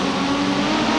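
Touring cars, a Ford Mondeo chasing a BMW, race past in a 1995 super touring race at the Indianapolis street circuit, their engines a loud, steady, high roar for one second with no talk.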